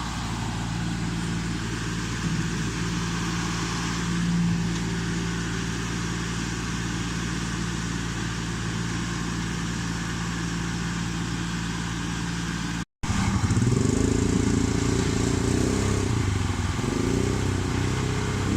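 New Holland Boomer tractor working gravel on a driveway road, its engine running as a steady, loud rumble that cuts out briefly and then resumes heavier and louder, close by.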